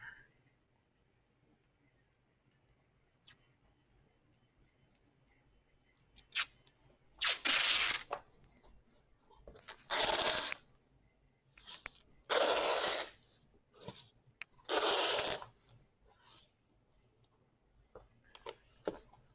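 Tape pulled off a roll in several loud bursts of ripping, each a second or two long with quiet pauses between, then pressed down on a surface being prepared for an epoxy tabletop, close up with no speech.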